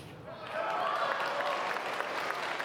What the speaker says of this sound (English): clapping on Freitas to come back